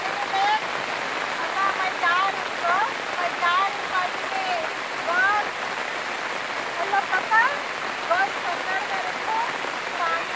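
Heavy rain pours steadily at Darodi Sharif, a constant hissing wash of water, with people talking over it.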